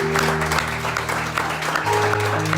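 Church congregation clapping together during a service, a steady wash of applause over sustained low musical tones, continuous for the whole stretch.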